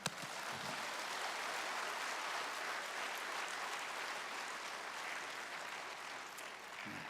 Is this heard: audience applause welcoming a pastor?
yes